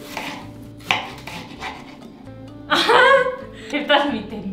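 A knife chops onion on a board for a potato omelette, a few sharp taps spaced through the clip while people talk and briefly laugh over it.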